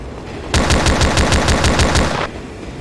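A rapid, evenly paced burst of submachine gun fire in the 2009 FPS Creator game Mob Ties Tokyo, loud and close, lasting under two seconds amid steady background game noise.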